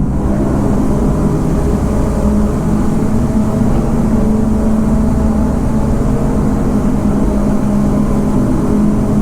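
A loud, steady Kawasaki ZX-25R motorcycle engine drone fills a reverberant enclosed tunnel on a toll road, a constant low rumble without pauses or voices.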